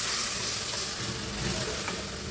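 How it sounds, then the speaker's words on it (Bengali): Fried spice paste in a hot pan giving a loud, dense, steady sizzle just as half a cup of water goes in, hissing continuously without pause. "এখন অ্যাড করে দিচ্ছি 1/2 কাপ পরিমাণ পানি।"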